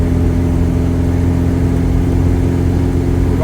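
The engine of a 1990 Volvo 245 pulls steadily while the car gets up to speed, a loud, close, continuous hum with road noise and no obvious gear changes.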